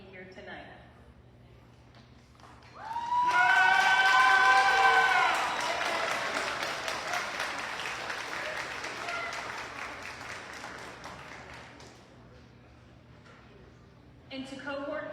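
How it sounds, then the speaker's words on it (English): Graduating nursing students at a pinning ceremony applaud the audience, a sudden burst of clapping and a few cheers filling the hall, loud at first then slowly tapering off, with a speaker's voice before and after. "Students, please stand and turn around and give applause to the audience"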